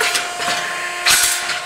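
A National NH5210 hydraulic shear, 10 gauge by 4 feet, cutting short pieces of sheet metal, giving quick sharp metallic bursts over a steady machine hum, close and fairly loud.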